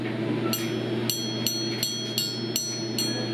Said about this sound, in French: quand on les cogne ensemble, c'est comme ça qu'on peut savoir que c'est de la bonne qualité.